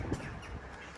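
A crow gives a single brief caw near a flying drone, fairly close, over a soft hum of background noise.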